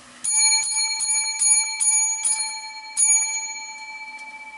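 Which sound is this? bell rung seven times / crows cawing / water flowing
bell rung seven times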